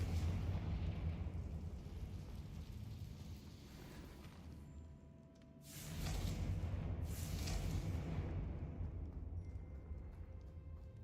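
Confringo fire spell blasts in Hogwarts Legacy, a low rumbling backdrop followed by two sharp, bright explosive bursts about a second apart, each decaying into a roaring tail, no talking.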